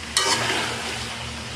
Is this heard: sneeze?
no